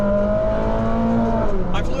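A Ferrari 458 with high mileage accelerates while being driven, its engine giving a steady, close, continuous drone whose pitch rises and falls slightly over about two seconds.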